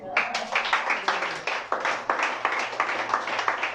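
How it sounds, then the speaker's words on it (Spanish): Congregation applauding during a Spanish-language church sermon, a dense wash of many hands clapping with rhythmic surges, fairly close and steady throughout, with voices mixed in. "Dale un aplauso al Rey."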